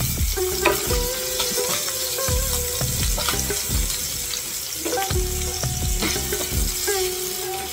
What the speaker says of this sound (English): in this karai, I am going to fry the fish.